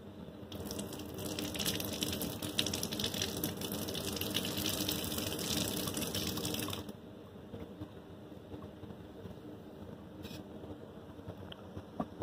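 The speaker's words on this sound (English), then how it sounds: "So I'm going to run a little bit more water over it on the other side." Tap water runs over the outside of a glass flask in a lab sink, a steady splashing gush that cuts off partway through, leaving a quiet room with a faint click.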